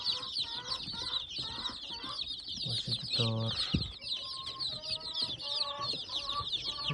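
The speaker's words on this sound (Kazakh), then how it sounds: "Балапандар жемдерін жеп." Amrox and Cochin chicks and chickens eating feed on a farm, a busy close chorus of clucks and high peeping chirps, with a brief spoken remark in between.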